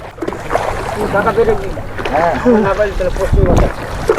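Fishing boat on a rough, storm-churned river during hilsa fishing, its steady rumble and water wash running underneath several people talking close by.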